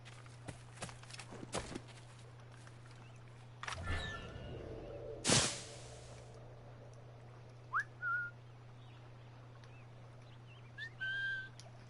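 A character whistles in Assassin's Creed Rogue, a short rising whistle tone sounding a few times in the later part, alongside hoof clatter, footsteps and a sustained background hum from the game.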